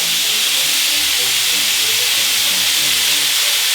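Onion sizzling on a hot griddle for a cheese steak burger, a loud, even, hissing sizzle with no break from start to end.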